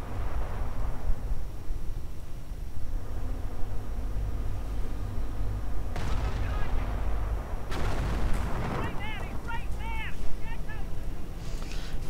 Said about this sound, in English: Even with all the artillery.